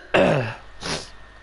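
A person clears their throat twice, close and loud: a long rough rasp followed by a shorter, breathier second clear, alone in a quiet room.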